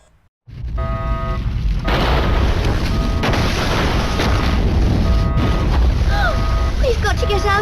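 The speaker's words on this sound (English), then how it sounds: "The base is going to explode?" A base exploding in the Inazuma Eleven 2: Firestorm video game, a sudden loud eruption that swells into a continuous heavy rumbling roar, with a few faint tonal sounds over it.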